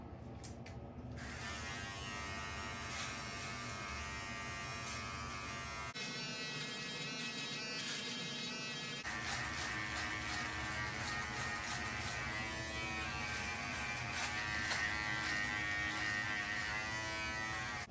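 A Remington T-Series MB7050 hair and beard trimmer shaving facial stubble, a steady close electric buzz that runs continuously, with a short change in pitch and texture as the cutter moves across the face.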